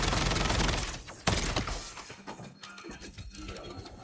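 Triple mortars firing in a video game, a quick volley of sharp bursts and crackling impacts at moderate loudness, thinning out toward the end.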